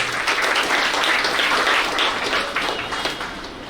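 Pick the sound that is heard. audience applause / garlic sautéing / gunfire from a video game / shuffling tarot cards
audience applause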